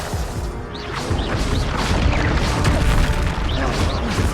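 Spells cast in a Harry Potter video game set at Hogwarts crackle and crash in a dense, continuous barrage of magical bursts and impacts, loud and busy throughout with whooshing sweeps layered over rumbling hits.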